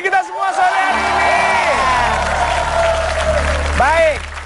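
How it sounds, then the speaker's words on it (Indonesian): A studio audience on an Indonesian television show applauds loudly, with cheers, whoops and shouting voices riding over the clapping throughout. "tepuk tangan dulu untuk kita semua sore hari ini"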